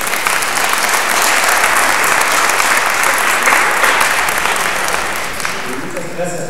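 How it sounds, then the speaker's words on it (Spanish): A large conference audience claps after a talk at a congress, a loud, dense wash of applause that holds steady and begins to thin near the end, with a faint voice entering over the fading claps. "un aplauso por favor para..."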